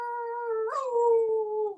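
A human voice imitates a coyote howl, one sustained tonal wail that rises in pitch midway, holds, then drops off at the end, sounding close and clear.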